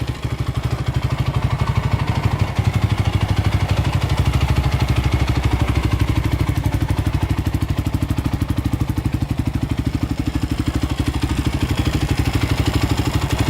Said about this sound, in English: We'll let this warm up for a couple minutes.